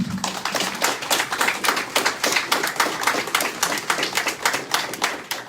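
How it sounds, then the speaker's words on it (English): Audience applause for the district attorney at a community town hall in an Islamic center, a steady dense run of many hands clapping, fairly close and sustained throughout without speech. "Gentlemen, can we give our district attorney a round of applause?"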